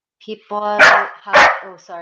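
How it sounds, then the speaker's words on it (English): A pet dog barks twice, loud and close, in sharp bursts that cut across a person talking. "that's my dog"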